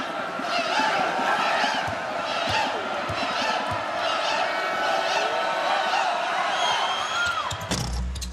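Dense basketball arena crowd at a Boise State at Utah State college game roars and cheers continuously, loud and sustained throughout, with a sharp thump and scrape near the end.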